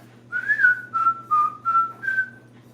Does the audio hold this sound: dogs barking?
no